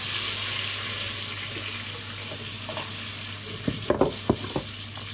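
Onions going into hot oil for a sardine sauté, a steady low sizzle with a few sharp clatters and knocks near the end.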